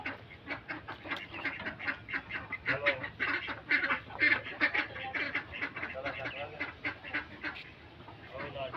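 A flock of ducks quacks constantly and loudly, overlapping calls in a busy chorus, with a person talking now and then.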